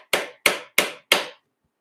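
A hand tool hammers a wooden wedge pin into a woodworking joint: four sharp, close knocks at an even pace, each with a brief ringing decay, in a quiet workshop.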